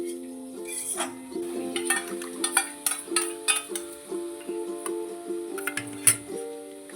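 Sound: mixing ingredients in a bowl

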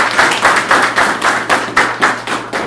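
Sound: applause

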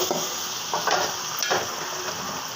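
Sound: winter vegetables frying and being stirred in pan

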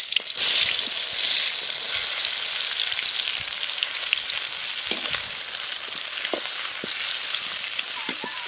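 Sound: onion frying with chillies in mustard oil

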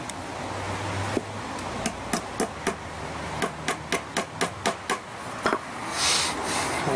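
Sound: hammering small nails through thin metal tape measure blade

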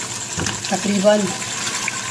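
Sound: water being poured into a pot while cooking beef haleem

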